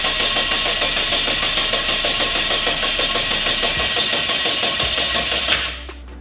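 The custom-manifold turbocharged engine of a Holden VL wagon runs loud and close with a steady, rough pulsing drone, then drops off abruptly near the end.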